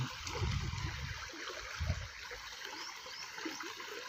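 Water in a small stream flows and gurgles softly and continuously, with a few low surges near the start.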